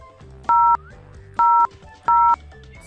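Three distinct telephone keypad DTMF tone beeps, each a steady dual-pitch tone lasting about a quarter second, loud and clear over a faint background hum during a phone call.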